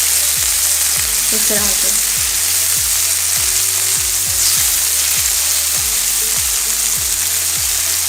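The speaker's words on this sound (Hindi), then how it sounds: "देखिए हमारा चिकन फ्राई हो गया है।" Chicken frying in a pan, cooked for a flatbread chicken dish with yogurt sauce: a loud, continuous close-up sizzle under a regular run of low thuds, with a brief spoken phrase.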